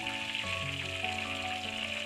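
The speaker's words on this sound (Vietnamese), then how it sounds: "sau khi là nấm bào ngư mình chiên xong rồi nè cả nhà" Battered oyster mushrooms frying in hot oil, giving a steady, dense sizzle with fine crackle that carries on evenly throughout at close range, with no voices.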